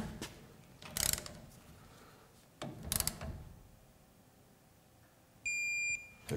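A torque wrench set to 12 foot-pounds gives two sharp clicks about two seconds apart while tightening a wheel bearing nut, followed by a brief electronic beep near the end.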